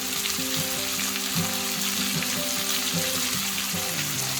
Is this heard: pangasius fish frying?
yes